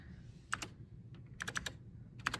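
Keys clack on a vintage Apple II computer keyboard in a few short, crisp bursts of two to four strokes each, close and fairly quiet, with no voices.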